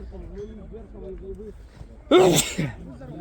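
A single loud sneeze bursts out midway through a commentator's ongoing talk during a youth football match, followed by a brief vocal sound as the speaking resumes.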